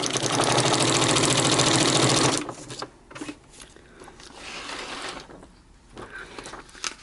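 Sewing machine stitching through paper for junk-journal or scrapbooking, a fast loud mechanical whir for about two seconds, then it stops, followed by softer handling noises and faint rustling.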